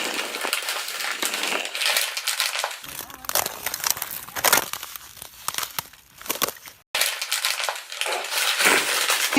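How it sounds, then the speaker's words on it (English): Paper crumpled in a song recording, loud close crinkling and crushing in bursts with sharp crackles, briefly cut to silence before resuming, with a voice intermittently under it. "The way he crumples the paper kind of sounds like ice cracking."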